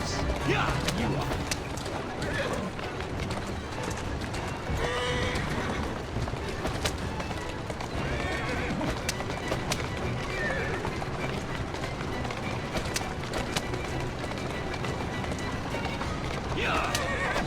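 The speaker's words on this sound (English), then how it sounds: "Who's a good horse?" A horse in Assassin's Creed Syndicate whinnies and clops along a street amid game ambience, hooves rattling steadily under almost constant character dialogue and cheering.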